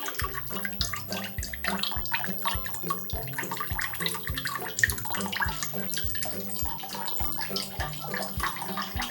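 Coconut water pours from an opened coconut into a container in a continuous trickling, splashing stream, close and steady, with repeated low thumps underneath.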